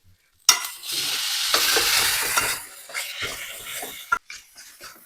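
Curry with milk, turmeric and chilli is stirred in a pan, giving a loud burst of scraping and sizzling that runs for several seconds, then softens into lighter scrapes before a brief final clatter.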